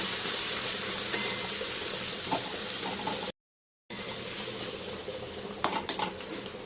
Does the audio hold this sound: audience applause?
no